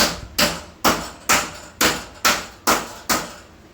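Hammer blows bending the ends of a sheet of steel down over a clamp while hand-fabricating rocker panels for a Checker car, eight sharp metallic strikes in a steady rhythm, close and loud with short ringing decays.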